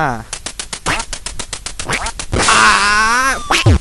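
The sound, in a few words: duck quacking in the Duck Hunt video game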